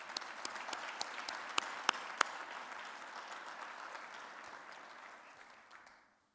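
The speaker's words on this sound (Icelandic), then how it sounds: "Gefum honum gott klapp." Steady applause from an audience at a sports awards ceremony in Akureyri, with a few sharper individual claps standing out, holding for about six seconds before fading away.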